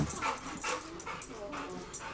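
A dog whimpers and whines softly in short repeated bursts, close but faint, with some quiet background noise.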